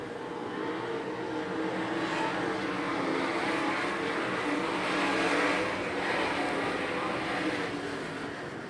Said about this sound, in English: Cam Schaefer, Rick Cobes setting the pace and taking off into the night